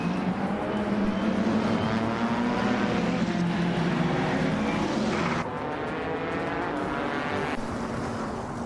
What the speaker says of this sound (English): Scorched Log is racing a 2010 Alfa Romeo Giulietta TCR